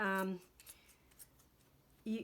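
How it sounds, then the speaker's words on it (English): Scissors trimming a yarn pom pom, a few soft, crisp snips spaced apart between bits of speech at the start and end. "see how I'm taking the scissors and I'm just flattening this part"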